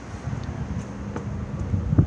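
Wind buffeting the microphone in low, uneven rumbling gusts, swelling louder toward the end with a few faint clicks.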